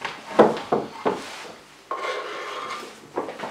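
Chopped fajita vegetables scraped and slid across a wooden chopping board into a bowl, a few short knocks and rasping scrapes with pauses between, close and clear.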